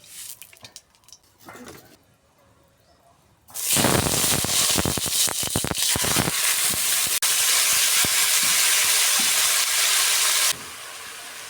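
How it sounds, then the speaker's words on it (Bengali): Panch phoron spices hit hot oil in a wok for a tomato chutney. After a few quiet seconds a sudden loud, dense sizzling hiss erupts and holds steady for about seven seconds before abruptly dropping away. No one speaks. "কড়াইতে তেল দিয়ে দেবো টমেটো টক করার জন্য। দিয়ে দেবো সামান্য পাঁচফোড়ন"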